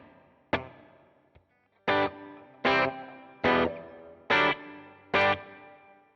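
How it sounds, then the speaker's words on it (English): Electric guitar played through a worship pedalboard with a small hall reverb: six loud, distorted strummed chords ring out one after another, each decaying into a roomy reverb tail, with a short muted hit between the first two. "It's, I think, just a small hall verb."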